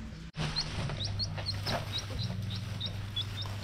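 A lone chicken in rural Isan, Thailand, gives a run of soft, evenly spaced high chirps and clucks over a steady low outdoor hum, with one brief dropout near the start.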